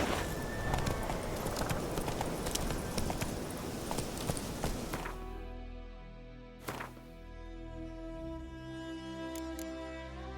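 Horse hooves clip-clop at a walking pace in The Witcher 3: Wild Hunt, a steady rhythmic plodding that carries on for the whole stretch. Busy game ambience and music sit over it at first and thin out about halfway.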